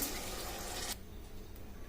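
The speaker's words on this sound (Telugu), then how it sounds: "ఇప్పుడు కొద్దిగా వాటర్ వేసుకుందాము" Water pours into a pan of tomato and chilli sambar with kohlrabi for about a second, a brief rushing splash that stops abruptly and leaves a quiet simmering background.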